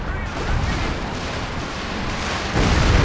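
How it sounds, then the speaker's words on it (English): A Stuka dive bomber strike tears into trees during a video game match, heard as a dense, loud, continuous rumble of blasts that swells even heavier near the end. "Stuka's hitting the trees!"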